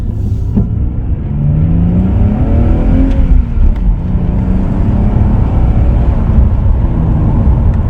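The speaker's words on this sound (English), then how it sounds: "Just taking it out for a quick test drive." A car accelerates on a short test drive after an engine fault repair, its engine note sweeping up in pitch through the revs over a loud, steady road rumble heard from inside, with no one talking.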